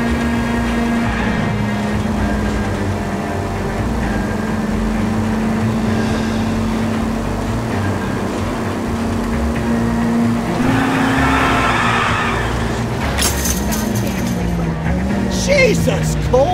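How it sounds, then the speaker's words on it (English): Cars street racing in the 1940s Los Angeles crime game LA Noire: a continuous, droning engine roar with a brief tire skid near the end, and people talking over it. "Suspect vehicles engaged in illegal street racing."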